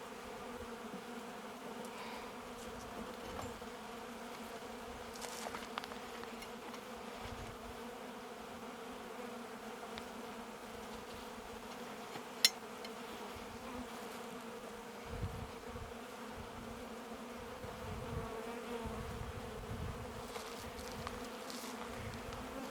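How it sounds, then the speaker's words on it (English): Honey bees crowd a hive frame during a split hive inspection, producing a continuous droning buzz with a few faint louder passes, steady and close with no talking. "I got a lot of bees on here."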